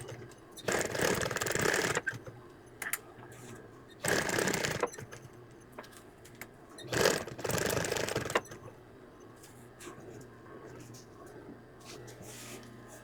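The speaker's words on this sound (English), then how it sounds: "let's top stitch the short present now" A sewing machine top stitching a present applique on a hand towel, running in several short bursts of a few seconds each with quiet pauses between, fairly faint and close.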